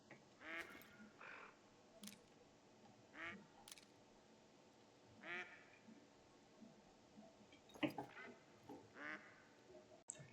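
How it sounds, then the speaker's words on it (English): Tufted ducks in theHunter: Call of the Wild game on the Revontuli Coast give repeated short quacks. They come in scattered bursts over a quiet outdoor ambience, at moderate distance, with one louder call near the end. "That's a tufted duck."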